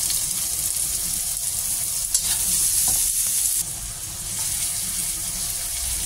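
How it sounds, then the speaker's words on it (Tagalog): Garlic sautéing in hot oil in a pan, a steady close sizzle running throughout with occasional stirring scrapes, a little quieter in the final seconds. "Unahin natin yung bawang. Igisa natin hanggang mag golden brown siya."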